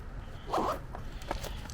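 A zipper on a Heimplanet Transit Line sling bag is pulled shut in one quick zip, close and fairly soft, with faint handling noise around it.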